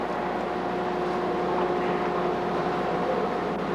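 Cornell Cycloseal pump running up at about 1200 RPM, a steady dense mechanical roar with a faint whining tone, loud and continuous with no voices.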